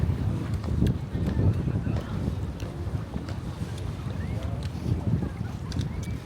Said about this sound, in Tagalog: gano'ng kalakas yung hangin.